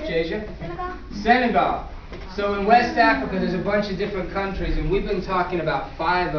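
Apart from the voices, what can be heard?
No everyday noise stands out behind the speech.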